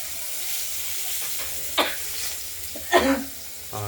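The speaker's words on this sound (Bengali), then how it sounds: "নুন হলুদ মাখিয়ে কড়াইতে তেল গরম করে আগে" Pieces of aar fish rubbed with salt and turmeric fry in hot oil in a wok, a close, steady sizzle with two sharper bursts of spitting partway through.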